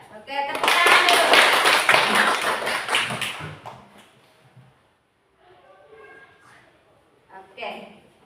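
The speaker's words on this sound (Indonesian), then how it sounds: "Oke, tepuk tangan dulu." Children in a classroom clap their hands in a loud, fast burst for about three seconds, which then fades into quieter talk from a teacher and students.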